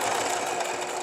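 A sewing machine stitches a scrapbook layout with vellum and no adhesive, running as a loud, steady, continuous mechanical whir for the whole short stretch, close up and without talk.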